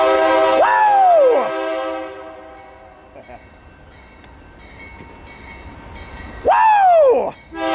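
A diesel freight train led by warbonnet-painted MACe locomotives at Sorrento Valley, San Diego, sounds its horn loudly in two sharp blasts a few seconds apart, with a steady rumble and bell-like ringing as the train passes close by.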